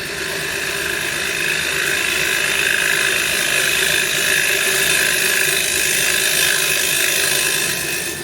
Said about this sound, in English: So now my next job is to face this off nice and flat, and I'm going to make a tenon in here.